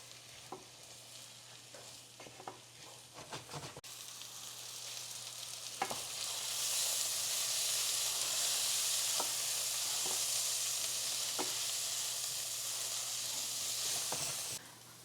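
Frozen vegetables and smoked sausage frying in a pan, a quiet background at first that swells into a loud, steady, hissing sizzle with occasional stirring taps.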